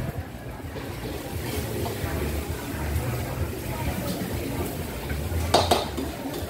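A street food cook in Udon Thani, Thailand stir-fries fried rice in a pan. Quick, continuous clanks of metal on metal and sizzling run under the busy ambience of the street, with people talking nearby.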